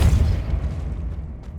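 Casting the Depulso spell in Hogwarts Legacy releases a heavy, booming blast with a deep low thud that rolls off and fades over about a second and a half.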